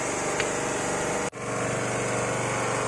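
A coffee husk huller machine's engine runs steadily nearby, a continuous droning hum with a brief dip partway through, no talking over it.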